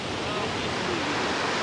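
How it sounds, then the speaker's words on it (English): Powerful river rapids roar continuously as a standing wave churns against rocks, a dense close rushing wash with no break. "It's very powerful water here."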